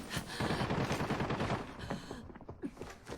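Rapid bursts of automatic gunfire from a shooter video game crackle loudly through the first second and a half, followed by scattered sharper single shots and clatter toward the end.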